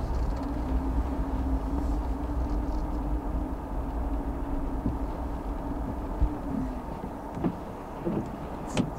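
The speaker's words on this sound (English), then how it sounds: "there goes a CSX train down there" A CSX freight train rolls past in the distance near a road crossing, a low steady rumble with a faint sustained horn-like tone, and a few clicks and knocks toward the end.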